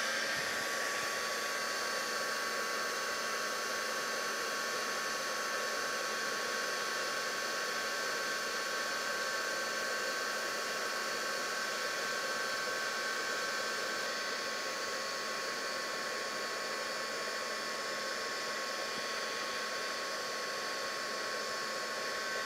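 A craft heat tool blows a steady, even whir for a long stretch while melting embossing powder, a constant close hum with no breaks and no talking.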